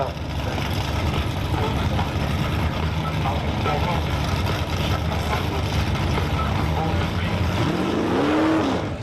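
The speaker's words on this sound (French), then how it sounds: "Une Camaro 67 pilotée par Gilles Didier." A yellow 1967 Camaro race car roars past with a steady, loud engine drone that holds throughout, while an announcer talks over the noise.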